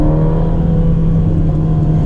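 A Ferrari Portofino engine drones loudly and steadily at close range, a constant low tone with no distinct rise in revs over the short stretch, and no voices.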